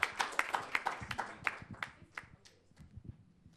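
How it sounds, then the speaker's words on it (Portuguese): An audience claps for a guest speaker at a multiple sclerosis patient summit. The applause starts as a fairly close burst of sharp claps, then thins out into sparse, scattered claps that fade away. "Um aplauso para o Jorge, que veio do Porto."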